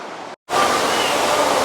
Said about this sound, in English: There's also like another small waterfall as well.